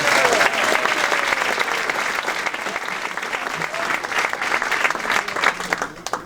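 A Pechakucha Night crowd in Burlington applauds a presenter, producing dense, loud clapping that stays steady and gradually thins toward the end.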